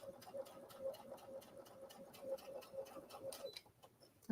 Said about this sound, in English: Sewing backwards.